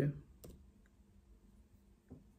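Computer mouse clicking during a search, two distinct sharp clicks about two seconds apart in a quiet room, preceded by a brief burst of voice at the very start.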